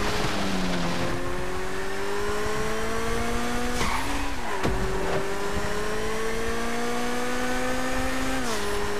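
A car races in GTA V Online while its engine loses power, producing a loud, sustained engine drone that shifts pitch. Tires squeal intermittently as it corners, and nobody speaks.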